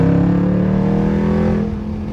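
An SRT Jeep's V8 engine revs loud and close, a deep steady droning growl that eases slightly as the throttle comes off at the end.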